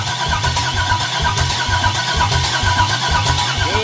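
A 3,000hp LS engine fires up for the first time, running loud and close with a rough, pulsing idle and a steady lumpy rhythm throughout.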